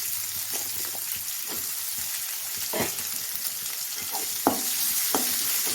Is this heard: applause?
no